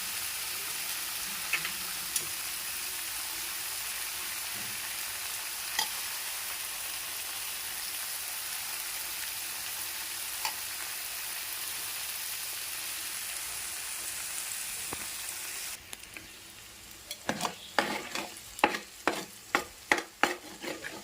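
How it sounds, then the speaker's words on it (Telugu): Eggs frying in a pan for egg fried rice, a steady hiss of sizzling oil for a long stretch, then the spatula starts stirring, adding sharp scraping taps over softer sizzle. "ఎగ్స్ వేసి తిప్పేసేద్దాం"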